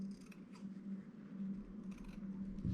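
Scissors clipping the corners of a fabric strip, heard as faint, quiet snips close by with no talking.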